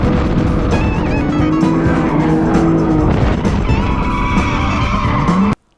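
An Infiniti G35 with a tuned suspension drifts hard, its tires squealing in long, wavering screeches over a loud, revving engine, continuous and close for several seconds before cutting off.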